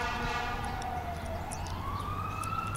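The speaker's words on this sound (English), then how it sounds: "I don't see fire trucks, just an ambulance." An ambulance siren wails steadily at a distance in a park in South Bend, its pitch gliding slowly down then rising again, continuous and fairly loud over faint background noise.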